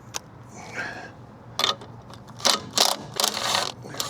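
A socket wrench ratchets in short bursts while offroad lights are mounted, its close, clicky rasps coming in several separate strokes with quiet pauses between them.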